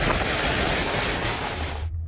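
Roaring Hurricane Irma wind on an island, a loud, continuous broadband rush like heavy surf that fills the clip and then cuts off abruptly near the end, with no voices.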